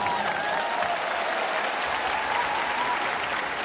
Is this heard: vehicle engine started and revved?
no